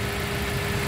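A 2018 Toyota Rush TRD with a manual gearbox idles close by, giving a smooth, steady low hum with a constant tone throughout the brief moment and no speech over it.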